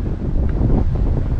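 Wind roars over a microphone on a ski slope at the Dolní Morava resort, a steady loud low buffeting with no speech.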